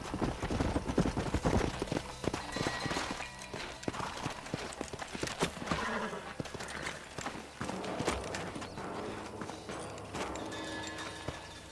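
Horse hooves clip-clop steadily on hard ground, a brisk rhythmic trot of several horses in the video game Red Dead Redemption, loud and near, with clattering and rattling over the beat.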